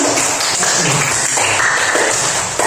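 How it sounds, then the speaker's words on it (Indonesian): Applause from an audience at a classroom AI workshop, a dense steady patter of clapping held at an even level throughout with no voices on top. "Tepuk tangan dulu untuk Mbak Sylvia"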